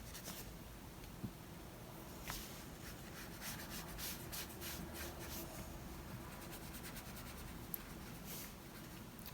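Graphite pencil shading an apple drawing on paper, a steady soft scratchy rubbing that carries on throughout with a few light taps, close and fairly quiet.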